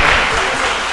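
Audience applause fills a municipal council chamber during an ordinary session: a dense, loud, continuous burst of clapping from a crowd, with no pauses.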